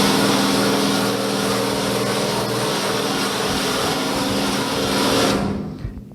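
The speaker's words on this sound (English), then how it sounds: "the last one is just the drill with a wire wheel" An electric drill fitted with a wire wheel runs steadily against painted metal on a Moke body, a loud, continuous grinding whir that holds for about five seconds before spinning down and fading out.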